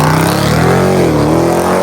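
Car accelerating hard at a car meet, a loud, close engine roar with the pitch climbing and wavering as it pulls, continuous and without talk.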